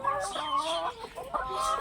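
Chickens in a poultry shed housing about fifty birds cluck and call continuously, several overlapping nearby and fairly loud for the whole stretch.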